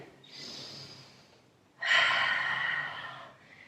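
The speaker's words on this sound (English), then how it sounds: "And breathing here, adjusting." Breathing during a downward facing dog pose in a hatha yoga flow: a soft nasal inhale followed by a louder, longer exhale, close and quiet, with no talk.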